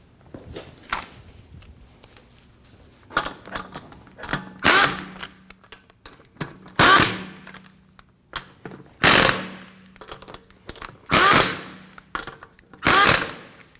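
On a 2016–2022 Honda Pilot, a power impact tool snugs down rear wheel lug nuts. It fires in six short, loud bursts, one roughly every two seconds, with quieter clicks and handling noises between them.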